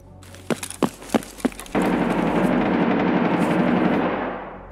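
Gunfire in the Escape from Tarkov video game: four loud, separate shots in quick succession, then a long roaring burst of fire that slowly fades out.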